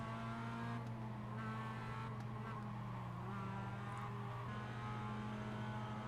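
Race car engines in the iRacing sim, a sustained buzzing engine note with shifting harmonics as cars jostle for position, steady and fairly faint throughout.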